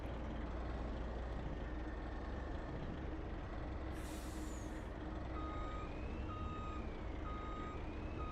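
Semi truck reversing in the Farming Simulator 25 video game: a loud, constant diesel engine rumble with an air-brake hiss midway and a regular series of evenly spaced backup beeps in the later part.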